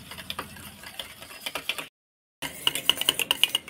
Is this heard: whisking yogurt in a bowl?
yes